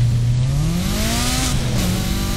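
A car in Need for Speed Heat accelerates hard, its engine note climbing steadily in pitch as the revs build, loud and close throughout with no talking.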